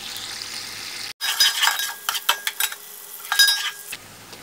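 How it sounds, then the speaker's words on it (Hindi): Chopped onions frying in a pan while browning toward dark brown, with a soft background sizzle and intermittent clinks and scraping strokes of a utensil stirring against the pan, punctuated by a brief drop near the start. "जितनी देर में प्याज डार्क ब्राउन हो रहे हैं"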